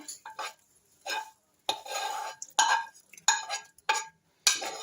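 Stirring onion sauce into rabbit meat in a pan or dish gives bursts of scraping and clinking from a utensil against cookware, repeated in short irregular strokes, close and moderately loud with no talking.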